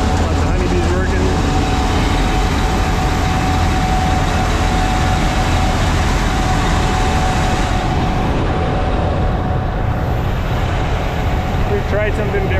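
AGCO combine harvester running with its straw chopper set to high speed, a loud, steady, dense mechanical roar and whine that continues unbroken throughout, with no talk.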